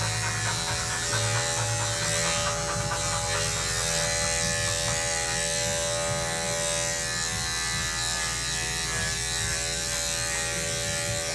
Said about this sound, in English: They do not like me shaving down the front of the legs.